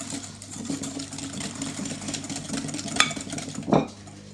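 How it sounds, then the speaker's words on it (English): Cream custard base whisked by hand in a metal bowl, a continuous close scraping rattle over a low steady hum from an appliance, with a couple of sharper clinks near the end and no talking. "We're going to whisk this and make like a nice"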